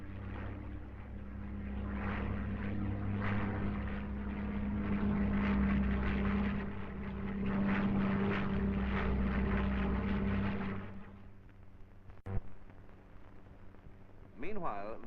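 Supermarine Spitfire propeller fighter, a Spitfire 7 with pointed wingtips, in archive footage: a steady droning engine and propeller roar holds for about eleven seconds under narration, then fades to a quieter hum with a brief click.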